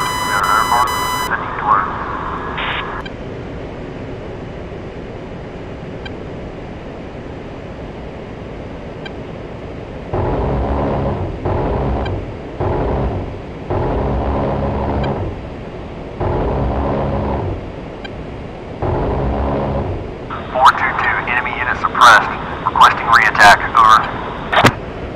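An A-10C jet in flight in DCS, with a constant faint background hum and a series of louder broadband roaring bursts in the middle, then a cluster of sharp higher-pitched sounds near the end.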